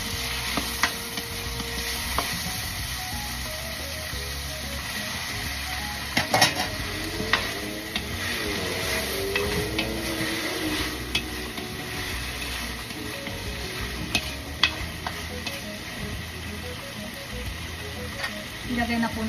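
Pork for sinigang fries in a pot with a steady sizzle, while a spoon stirs and scrapes against the metal in occasional clinks and knocks, and no one speaks.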